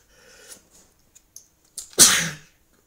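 One loud, close sneeze erupts after a few small sniffs and breaths, a sharp explosive burst that quickly fades.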